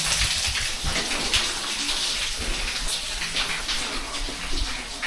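Water pours down steadily inside a mine tunnel like a shower. A dense, hissing splash fills the space, loud and continuous with constant spattering and no talk.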